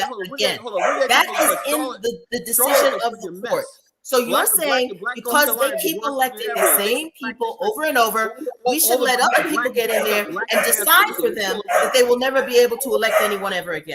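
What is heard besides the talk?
dogs barking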